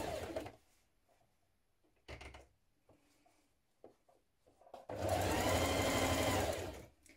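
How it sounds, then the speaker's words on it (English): Sewing machine running a long continuous stitch along the lower edge of a jeans leg, loud and steady, with shorter bursts of machine noise and handling sounds beforehand. "we're going to stitch around this lower edge up to your circle here"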